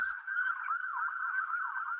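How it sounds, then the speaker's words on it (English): An ambulance siren passing by, a steady wavering wail held throughout at moderate loudness, somewhat distant, with no voices over it. "that's the ambulance in the background?"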